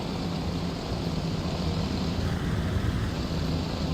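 Aircraft flying in the Transport Fever 2 game, a steady, moderate engine drone with a low rumbling hum, continuous and unbroken with no talk over it.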